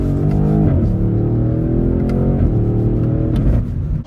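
BMW M850i V8 engine after a downshift, a loud steady rumbling drone with a gently falling then holding pitch, recorded close from inside the car, with no talk.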